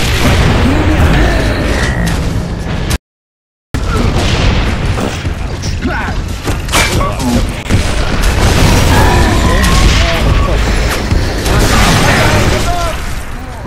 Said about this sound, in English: Boom shot.